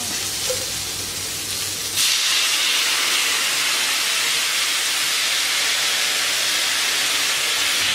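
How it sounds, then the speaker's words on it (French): Marsala wine poured into a hot pan for chicken marsala: after a low background hum, a sudden loud, steady sizzling hiss bursts in and holds unbroken to the end. "on va baisser la température et puis on va verser le marsala"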